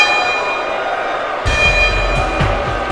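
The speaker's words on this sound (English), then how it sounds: "You heard that toll of the bell." A single bell tolls at a wrestling-style event broadcast, a loud low strike landing abruptly over a steady ringing drone and crowd ambience, with a couple of softer follow-up knocks after it.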